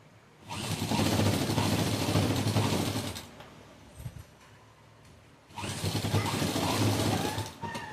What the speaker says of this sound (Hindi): यहाँ से ही मैं इसको लगाते हुए यहाँ तक सिलाई कंप्लीट कर लूँगी